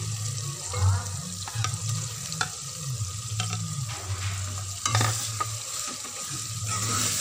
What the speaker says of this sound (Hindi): अच्छी तरह से इनको फ्राई करेंगे।